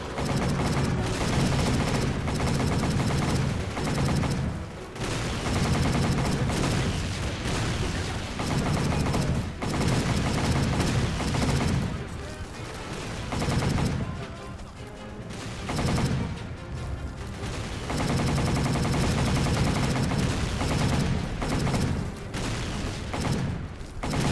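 Sustained bursts of machine gun fire in a shooter game, loud and close, with brief pauses between long rattling volleys and explosions mixed in, no voices.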